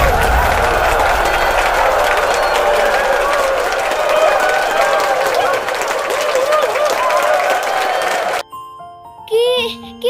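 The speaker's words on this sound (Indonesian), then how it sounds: "mari beri tepuk tangan yang paling meriah untuk Ging dan Vivi" Sustained applause and cheering from a crowd in the Sakura School Simulator video game, loud and continuous during a cooking contest, cutting off abruptly near the end, followed by brief chiming game sounds.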